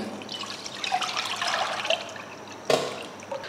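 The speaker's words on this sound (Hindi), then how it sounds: "तो इसको हम डाल देंगे पैन में" Tamarind pulp is poured into a pan with a soft, continuous liquid splashing and trickling, ending in a sharper slap partway through.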